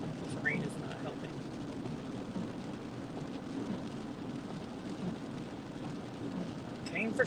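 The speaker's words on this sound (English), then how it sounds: "This rain is not helping." Winter-storm rain falls in a steady, faint hiss, a continuous wash of drops with a few brief, sharper sounds near the start and end.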